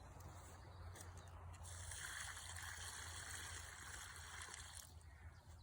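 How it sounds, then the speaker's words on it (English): Water pours steadily onto a small transplanted tree outdoors, a faint, continuous splashing trickle over a low background rumble with no talking. "I've got the water to put on my little transplant tree."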